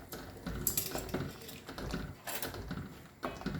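Paneer curry being stirred with a spoon in a pan, with repeated close scraping and clinking of metal against the pan in irregular bursts and no voices.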